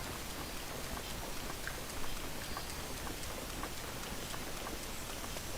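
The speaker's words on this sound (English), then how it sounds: "It's always raining in Akala." Steady rain falling in the Akala region of Zelda: Breath of the Wild, a dense even hiss with scattered drop ticks, continuous and moderately loud throughout without talk.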